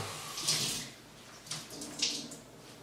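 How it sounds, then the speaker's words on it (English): Water runs from a tap onto a towel in a kitchen during pizza-dough preparation, a soft steady splashing with two brief louder gushes, close by and without talk. "Now I'm going to wet my towel"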